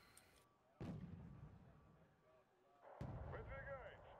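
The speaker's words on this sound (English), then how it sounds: "I got the Borodino firing right now." Borodino heavy artillery firing in the Wargame: Red Dragon strategy game: two deep booming blasts a couple of seconds apart, each rolling out into a rumbling tail, heard under quiet gameplay.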